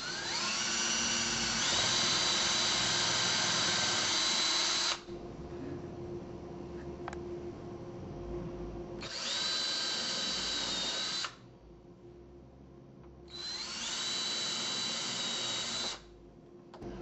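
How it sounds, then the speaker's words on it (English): A power drill pre-drilling screw holes in three bursts of several seconds each, high-pitched and close, with quiet pauses between. "Now you want to go about 1 inch over from the frame and pre-drill your holes for the screws."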